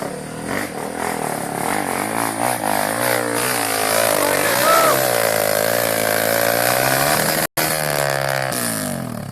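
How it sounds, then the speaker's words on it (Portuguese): A dirt bike engine revs hard on a trail climb, a loud, continuous buzzing drone whose pitch rises and falls with the throttle, with a brief cut near the end. "Não sei se dá pra encher o motor de segunda de lá."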